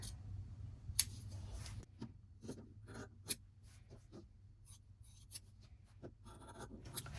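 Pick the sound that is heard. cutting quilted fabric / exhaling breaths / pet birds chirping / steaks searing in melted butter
cutting quilted fabric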